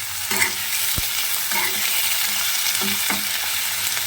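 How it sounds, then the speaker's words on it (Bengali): Tomatoes stirred through hot oil over a lowered flame in a pan, a steady broadband sizzle with several scraping stir strokes and one sharp utensil knock, close and alone for a dish of stuffed aubergine. "টমেটো সব তেলের মধ্যে ভালো করে নাড়াচাড়া করে নেব"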